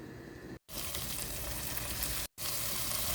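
Chopped garlic, red and green capsicum, mint and coriander sizzling in oil, a steady close frying hiss with two brief breaks.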